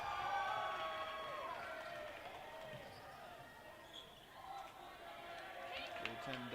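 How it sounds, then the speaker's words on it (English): A high school varsity boys basketball game, Lakeland Union against Antigo, where the gym crowd keeps up a steady, loud roar while a commentator talks over it. "This crowd really starting to get loud."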